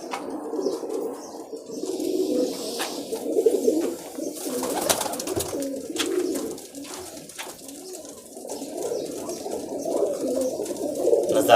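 Soft pigeon cooing close by, low murmuring calls repeating over a steady background, with a few light flutters and chirps.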